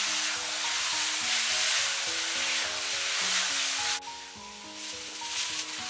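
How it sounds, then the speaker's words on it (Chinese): Eggplant stir-fried with soy sauce and oyster sauce in a wok, a steady loud sizzle with continuous scraping and stirring strokes, no talking. "然后不停地给它翻炒，将茄子给它炒至入味"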